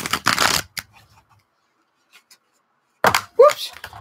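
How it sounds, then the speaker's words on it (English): A new tarot card deck is shuffled by hand in a few quick riffling bursts, close by, separated by a long quiet pause. "Let me see if I can do the shuffle over here."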